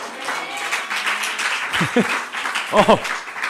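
A church congregation applauds continuously under a preacher's voice during a Sunday service, with a few distinct hand claps standing out near the microphone.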